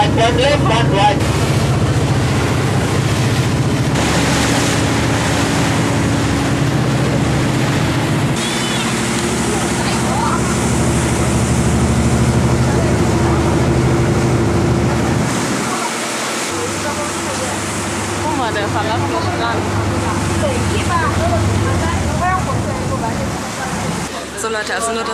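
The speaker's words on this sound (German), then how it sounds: "Wir fahren jetzt mit einem Longtailboot gleich zu einem anderen Strand." A longtail boat runs on the sea in Thailand's Ang Thong Marine National Park. A loud, steady engine roar blends with rushing water and wind for the whole ride, and the drone briefly dips partway through.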